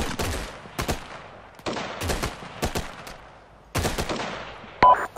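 Bursts of automatic rifle and machine-gun fire in the military video game Arma 3, several rapid volleys separated by short pauses, sharp and fairly close with no talking.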